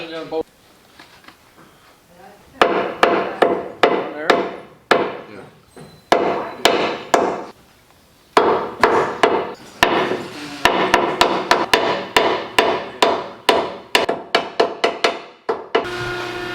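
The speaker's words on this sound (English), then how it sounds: "We're just going to punch out holes instead of drilling them." A hammer strikes a punch again and again, knocking bolt holes for a hitch on a Mahindra ROXOR. The blows are sharp, close and loud, coming in quick bursts with short pauses between them.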